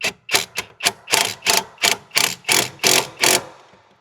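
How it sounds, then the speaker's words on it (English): Impact gun running down the sway bar link nut on a 2012-2017 Toyota Camry Hybrid, about a dozen sharp, loud hammering bursts in quick succession that stop abruptly. "I'm just gonna try to hit it with the impact gun, see if we can't get that to just run right down."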